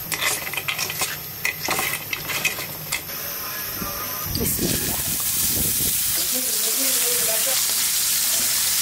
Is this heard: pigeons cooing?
no